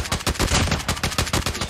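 Loud, rapid automatic assault rifle fire from the Oden AR in a shooter video game, a dense continuous burst of closely spaced shots that fills the whole moment with no pauses.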